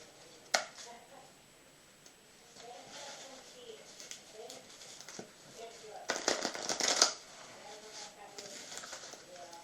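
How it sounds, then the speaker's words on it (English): Pack of playing cards being cut and shuffled by hand, soft intermittent riffling and flicks with a louder burst of shuffling later, heard close under a quiet room. "I'll give the pack a few cuts and shuffles."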